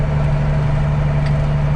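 Close, loud, even idle of a Case IH Magnum 7120 four-wheel drive tractor with duals, a constant low diesel rumble with a faint brief tick partway through and nobody speaking.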